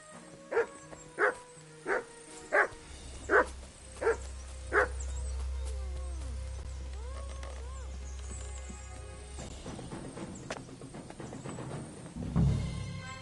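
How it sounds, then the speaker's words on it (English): A dog in the medieval video game Kingdom Come: Deliverance 2 barks six times in an even rhythm, moderately loud over a quiet game ambience. Softer game sounds follow the barking. "I don't know how you get past this fucking dog"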